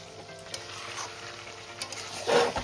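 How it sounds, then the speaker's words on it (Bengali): Mutton pieces sautéing in a pan for red mutton curry, a soft sizzle with a few light stirring taps, ending in a brief louder burst of frying. "এবার আমি মটনটাকে ভালো করে কষিয়ে নেব।"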